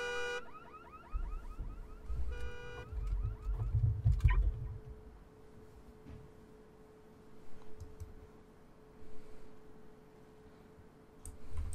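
A car alarm in the horror game Visage, a repeating electronic tone and clicking pattern that sounds for a couple of seconds, then fades as low thumps and faint room noise continue.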